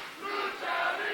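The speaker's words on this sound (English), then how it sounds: "Listen to this capacity crowd here." A capacity crowd at a packed professional wrestling show roars and cheers continuously, a loud, dense wash of voices that swells slightly toward the end.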